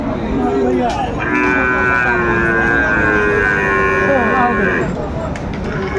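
A bull at a Chattogram cattle market gives one long, loud, drawn-out low close by, set against a busy crowd murmur.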